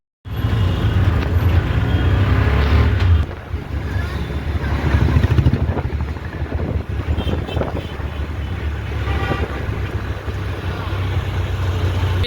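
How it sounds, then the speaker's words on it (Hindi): Road traffic near the Albert Hall museum in Jaipur, a continuous rumble of passing cars and motorbikes with engine drone and wind buffeting, fairly loud and steady throughout. "थोड़ा ट्रैफिक का सामना करना पड़ रहा है"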